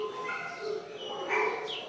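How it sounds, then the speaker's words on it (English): At an animal shelter kennel, a terrier mix and a Lhasa Apso mix let out several close, high-pitched yips and whines in quick succession, fairly soft in level. "These two beautiful dogs are at the Baldwin Park Animal Shelter."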